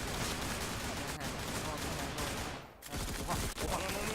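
Pump-action shotgun fire in the online shooter Zula, dense bursts of gunfire and game noise throughout, with a brief dip near the middle, loud and continuous under faint voices.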